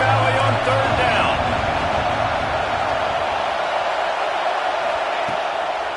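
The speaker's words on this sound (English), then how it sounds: "Here comes the noise from this big crowd in Happy Valley on third down." Big football crowd roaring in Happy Valley on a third down, a dense, steady wall of noise from the stands that stays loud throughout with scattered whoops.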